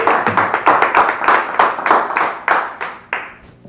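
An audience claps for a guest on stage, a dense run of hand claps in repeated bursts that swell and fade, close and loud, tapering off toward the end with no talking.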